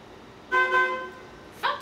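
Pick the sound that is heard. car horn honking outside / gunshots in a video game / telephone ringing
car horn honking outside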